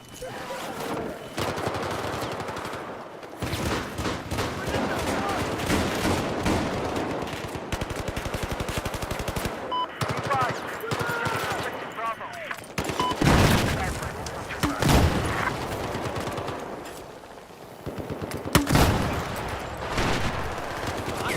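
AEK assault rifle fire in the Battlefield video game: dense, rapid automatic bursts repeating almost without break, loud and close, with brief gaps between volleys and faint talk underneath.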